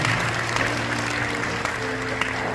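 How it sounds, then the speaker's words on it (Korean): Congregation at a Korean church joint prayer meeting applauding in praise, a steady wash of clapping with a low sustained tone beneath it, moderately loud and continuous. "살리실 하나님께 큰 영광의 박수 올려드리겠습니다"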